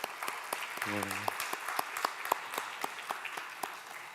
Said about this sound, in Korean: 아쉬움의 박수 부탁드립니다